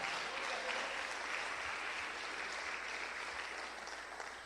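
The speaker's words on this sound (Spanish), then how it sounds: "Dale el mejor aplauso a su bendita palabra." A church congregation gives sustained applause, a dense, even wash of many hands clapping that holds steady for several seconds and tapers slightly at the end.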